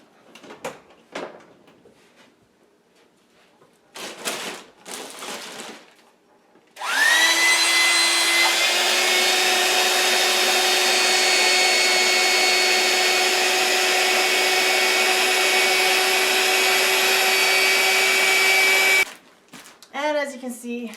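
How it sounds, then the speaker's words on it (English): After some handling clatter, a vacuum cleaner starts up and whines loudly and steadily for about twelve seconds while sucking air from a large sealed bag, then cuts off, followed by rustling. "And let's plug in the vacuum."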